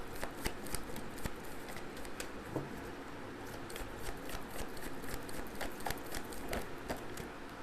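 Tarot cards are shuffled and handled up close in a continuous soft rustle with frequent sharp flicks and snaps, quiet and unbroken by talk.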